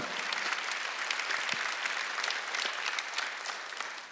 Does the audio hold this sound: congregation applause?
yes